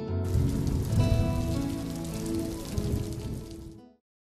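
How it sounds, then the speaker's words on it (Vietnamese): Heavy rain with wind in an animated folk-tale soundtrack, a dense, loud hiss of downpour lasting a few seconds before cutting off abruptly, with no talking. "lại sắp mưa to gió lớn rồi"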